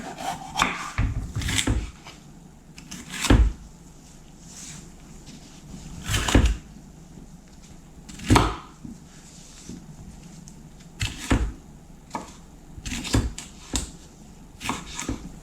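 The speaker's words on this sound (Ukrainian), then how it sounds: "Перець, відповідно, також нарізаю брусочками." A knife cuts bell pepper into strips on a wooden board, giving irregular knocks and scraping strokes spaced a second or two apart, fairly close and quiet, with no talk.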